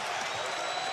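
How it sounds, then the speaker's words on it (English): Basketball arena crowd roaring for Tony Snell's shot in an NBA game against the Pacers, a dense sustained cheer filling the space with no gaps, loud and steady throughout. "You can hear the crowd before he took his second step"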